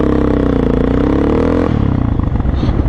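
A motorcycle pulls away in second gear with a strong, torquey engine note. It sounds loud and close, with a steady revving drone that shifts in pitch partway through.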